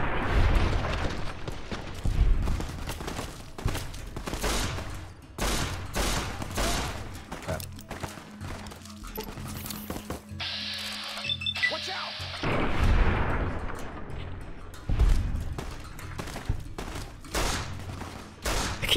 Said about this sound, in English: Shooting their guns out of their hands.